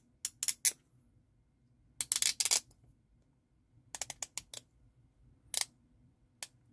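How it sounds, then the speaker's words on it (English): Rotating bezel on a Citizen Promaster 300 meter Eco-Drive dive watch turned in short bursts, crisp close ratcheting clicks in quick clusters separated by silence. "I'll let you listen to the bezel action here."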